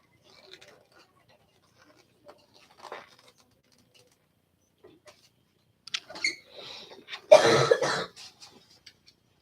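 A child coughs a few times at close range in an otherwise quiet room, a short burst of harsh, noisy coughs after a couple of faint earlier sounds.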